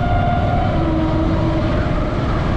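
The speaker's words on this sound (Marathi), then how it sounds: "रेल्वे या ठिकाणाहून पास होत असताना पाहायला मिळते पहा" A Konkan Railway train passes beside the Mumbai–Goa highway near Bhoste Ghat, giving a steady, loud rolling rumble with sustained tonal whine throughout, no voices.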